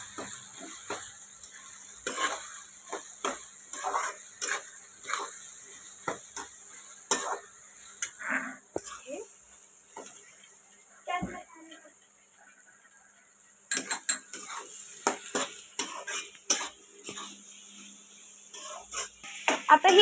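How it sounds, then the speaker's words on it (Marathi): Spices and vegetables being stirred in a pot for veg biryani, with irregular close scrapes and clinks of a spoon against the metal and a faint sizzle between strokes. "त्याला हलवून घेऊया"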